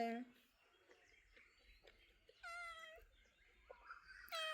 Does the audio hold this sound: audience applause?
no